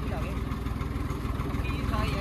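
A tractor's diesel engine chugs close by in a steady, rapid low thumping rhythm that holds evenly throughout.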